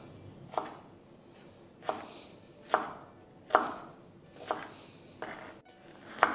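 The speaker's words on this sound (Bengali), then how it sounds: "আর ঝিঙেটা কাটার পরে আমি এখানে কেটে নেব পটলটাও ঠিক এরকম বড় বড় করেই কাটবো।" A kitchen knife chops pointed gourd (potol) into long pieces on a board, giving seven crisp, close knocks at a slow, steady pace, each a sharp hit with a brief scrape before it, and no voices.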